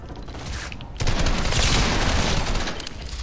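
Gunfire rips through a PS4 shooter game: a quieter rattle opens, then a loud, dense burst of rapid shots kicks in after a second and keeps firing to the end.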